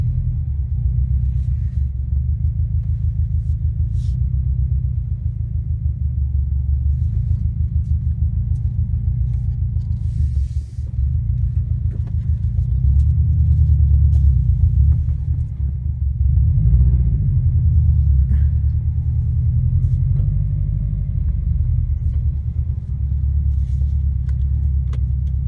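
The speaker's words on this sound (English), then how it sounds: "hopefully this will give you some idea of what the R400 sounds like from inside the cab" Invidia R400 cat-back exhaust on a 2017 Subaru WRX STI heard from inside the cab while driving, a constant deep, loud drone and rumble that swells briefly under acceleration, with no talk.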